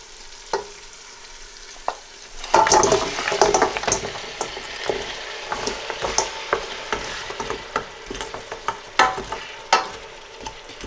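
Frozen spinach is added to a sizzling pan for palak paneer and stirred, with soft frying hiss under repeated scraping and clinking strokes of a spoon, close and uneven in rhythm.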